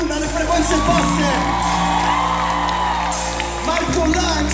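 A concert crowd applauds and whoops loudly and continuously at a live show, with shouts rising from the mass of clapping and music or a voice faintly underneath.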